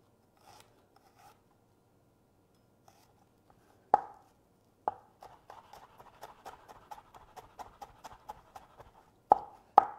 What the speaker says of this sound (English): you just cut thin strips